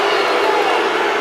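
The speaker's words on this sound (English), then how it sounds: "Crowd didn't like it" Basketball arena crowd at an Ole Miss versus Alabama game reacting to a traveling call, a steady loud roar of many voices with scattered shouts, close and continuous throughout.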